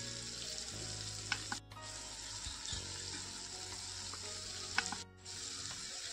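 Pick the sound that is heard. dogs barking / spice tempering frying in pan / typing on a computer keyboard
spice tempering frying in pan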